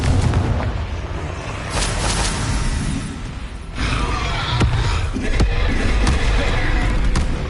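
Confringo blasting-curse explosions in Hogwarts Legacy, several sharp booming blasts scattered through a dense, loud battle din of spell effects and clatter, with a voice calling out among them.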